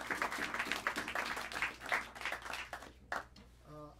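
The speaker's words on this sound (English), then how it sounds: "Give Dwayne Bernal a round of applause." Scattered audience clapping in a small New York jazz club, fairly faint and uneven, fading after a few seconds into a quieter moment with a brief instrumental tone at the end.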